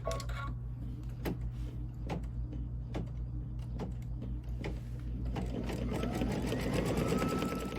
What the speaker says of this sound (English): So let's go ahead and stitch our placement lines.